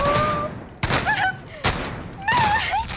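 Sharp bursts of hostile gunfire in the battle royale shooter Warzone, several loud cracks spaced apart, with whistling in-game tones between them.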